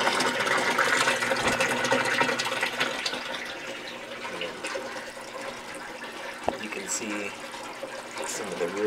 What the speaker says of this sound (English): The water is flushing down.